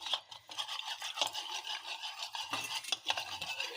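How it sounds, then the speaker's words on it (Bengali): Cornflour batter being mixed with a little water: quick, steady scraping and swishing strokes of a spoon in a small bowl, close and fairly quiet, with no talk. "এবার 1 চামচ মতো কর্নফ্লাওয়ার নিয়ে তাতে একটা ব্যাটার তৈরি করব"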